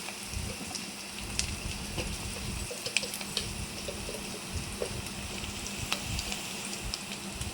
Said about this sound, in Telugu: కొంచెం గోల్డెన్ బ్రౌన్ కలర్ వచ్చేవారికి వరకు వేయించుకోవాలి ఆయిల్లో